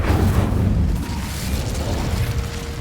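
The Incendio fire spell is cast in Hogwarts Legacy, a loud whooshing burst of flame with a rumbling low end that holds for a few seconds.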